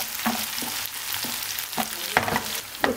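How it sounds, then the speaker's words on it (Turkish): Minced meat and a heaped dessert spoon of dried mint fry in a pan with a steady sizzle, broken by several sharp scraping stirs of a spoon spaced through the moment. "Şimdi içerisine dolu dolu bir tatlı kaşığı nane ilave edip kavuruyorum."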